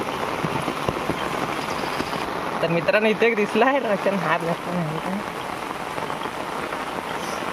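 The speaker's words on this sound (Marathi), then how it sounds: "पाऊस आलाय जोरात." Heavy rain pours down in a loud, dense, continuous hiss on open ground during a crab-catching outing, with someone speaking briefly over the downpour midway.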